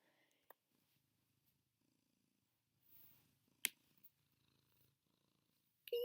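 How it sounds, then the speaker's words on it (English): A soft, low purr rumbles faintly in short stretches, with a few clicks and taps nearby and quiet pauses between. "Can you guys hear that purr?"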